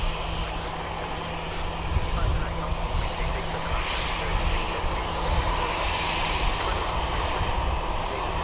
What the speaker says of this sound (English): we've got the EasyJet in next.